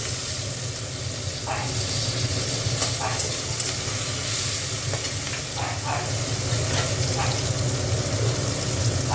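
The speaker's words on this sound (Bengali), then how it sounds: "পেঁয়াজগুলো দিয়ে দিচ্ছি।" Onions sizzle in a pan of oil for an egg curry while a utensil repeatedly stirs and scrapes through them, giving intermittent scraping strokes over a constant close frying hiss.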